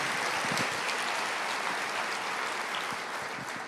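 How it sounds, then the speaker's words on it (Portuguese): Church congregation applauding during a sermon, a broad, steady roar of many people clapping at once, filling the hall evenly and slowly easing toward the end. "Você pode aplaudir o Senhor"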